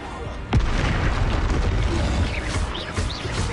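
A Confringo blasting spell in Hogwarts Legacy goes off as a sudden heavy boom. A rumbling wash follows it, and bright magical whooshes and chirps come after, with a voice heard briefly in the game.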